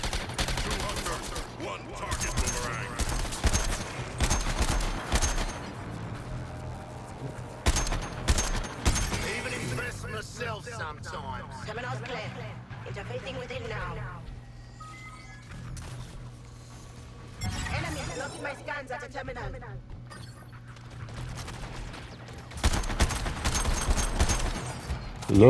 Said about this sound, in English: I'm shooting at nothing.